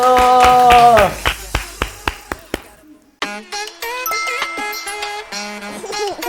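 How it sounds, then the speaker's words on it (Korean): A short run of separate handclaps, about eight evenly spaced sharp claps close by, comes after music cuts off, followed by more music starting up. "박수."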